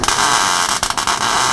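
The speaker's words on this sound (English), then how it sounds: "Alrighty, let's weld it up on the inside right here in the middle." A MIG-style weld runs on the inside of a car body panel during restoration, a loud steady crackling buzz with brief stutters, heard close with no speech.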